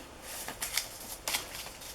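Vintage paper envelopes are handled up close, giving a few quick, crisp rustling bursts between quieter stretches of soft papery movement.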